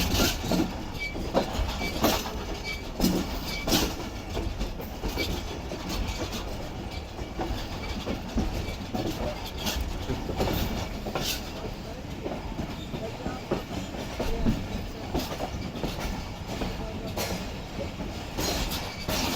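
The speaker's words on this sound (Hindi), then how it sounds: "और हमारी ट्रेन उसे फॉलो करते हुए आहिस्ता आहिस्ता बढ़ रही है स्टेशन की तरफ।" A Rehman Baba Express passenger train moving slowly toward a station along a route cut through mountains: continuous rumble with rhythmic clickety-clack of wheels on rail joints, heard from inside an economy class carriage, steady and moderately loud.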